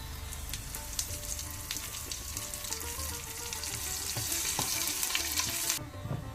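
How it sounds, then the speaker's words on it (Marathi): Chilies and curry leaves frying in oil with roasted garlic for a Mangalorean horse gram saar, a loud continuous sizzle and crackle with stirring clinks, close and steady, no talking. "लसूण भाजून आयले म्हणटना ताका मिरसांगो घाल्या. एर एक बेवाचो पालो घालचो."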